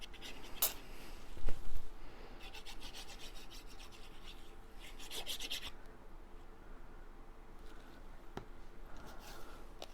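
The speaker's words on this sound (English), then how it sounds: "I'm just going to take this back piece and I'm going to glue" Paper back piece rubbed and pressed down onto a glued card, giving soft scraping and rasping strokes close by with a few louder bursts, no talking.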